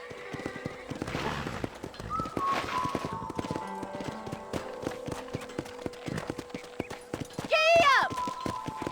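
Rhythmic horse hoofbeats clop steadily throughout in the video game Red Dead Redemption (remastered), with a horse whinnying loudly near the end over a soft background of steady tones.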